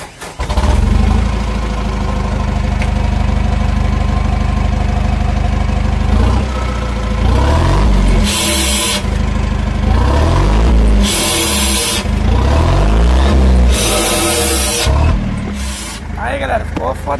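A truck's diesel engine runs with its engine brake switched on and a modified exhaust. A loud, steady idle is broken by several harsh, rapid bursts of engine-brake rattle, with people talking over it.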